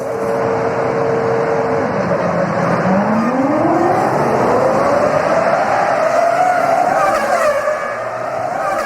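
Formula 1 cars from the 2005 season, Ferraris, Jordans and Minardis, racing past with a loud high engine whine that rises and sweeps in pitch as the cars approach and pass, continuous and close.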